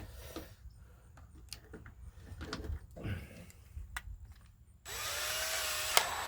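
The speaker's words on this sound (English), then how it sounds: "then go ahead and drill the hole" A few quiet knocks and handling noises, then a power drill whirs steadily and loudly near the end, drilling a pilot hole for a diesel heater installation in a box truck.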